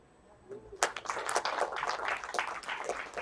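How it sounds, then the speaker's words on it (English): An audience breaks into applause, a dense burst of many hands clapping that starts abruptly and continues steadily, fairly close and lively. "Please applause to IOV."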